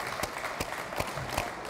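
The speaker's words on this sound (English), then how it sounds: "Let's have a round of applause for that." Audience applause at an outdoor fire department Fill the Boot campaign event, a steady wash of scattered clapping from a modest crowd with a few sharper individual claps standing out.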